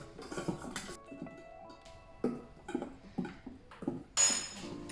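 Intermittent clinks and scrapes of a utensil against a pot as a mixture with added drops is stirred, several soft knocks and a brighter clatter near the end, fairly close and with no talk over them.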